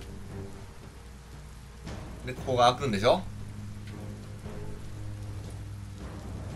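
Steady rain patters through a rainy scene in the video game Biomutant, a constant wash beneath a voice speaking in the foreground.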